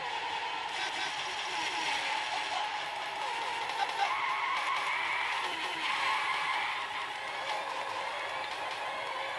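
Engine whine and tire skids from racing cars in the arcade game Virtua Racing, running on an emulator, form a steady, fairly loud electronic drone with scraping and clattering accents throughout.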